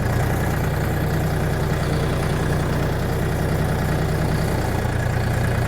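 A DTZ 5244HPX mini tractor engine runs steadily at low revs in first gear, a constant close diesel drone with no pauses and no voices.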